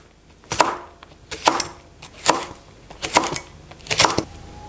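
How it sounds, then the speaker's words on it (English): A knife cuts red chili peppers on the diagonal on a cutting board, making five crisp, evenly spaced chops about a second apart. Each chop is close and clear against a quiet kitchen. "Couple of red chili peppers for extra heat, cut on the diagonal."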